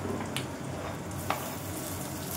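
Onions browning in a pan on a home stove in Kolkata, making a soft continuous frying hiss with a low steady hum underneath and a couple of faint clicks.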